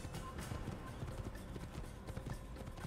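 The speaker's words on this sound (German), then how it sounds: "Ich muss jetzt geradeaus reiten." Horse hooves clop in a steady galloping rhythm as a rider travels straight ahead in Assassin's Creed, set in the journey to Jerusalem; the hoofbeats are moderately faint and continuous over a soft background.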